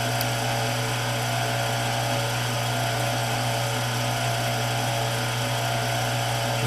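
A drill finishing a pilot through hole in a shop-made cam bearing installation tool for a Farmall Super M, a steady, loud, unbroken motor drone with a constant low hum and no voices.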